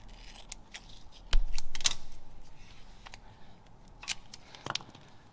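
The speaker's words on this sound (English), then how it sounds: "Take a piece of tape, cut it to length," Scissors cutting a piece of tape to length while making a go-kart mudflap, a few sharp, close snips and clicks spaced apart, with quiet handling noise in between.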